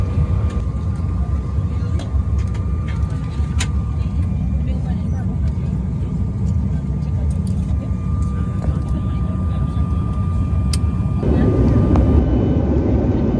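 Loud, constant roar of jet engines inside a regional jet cabin during takeoff, a heavy rumbling wash that swells slightly toward the end, with voices faintly beneath it.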